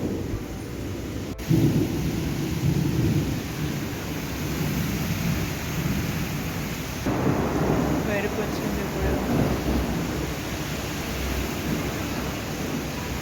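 Heavy morning rain roars in a dense, loud, unbroken wash, with a sharp crack near the start and deeper rumbling swells of thunder later on.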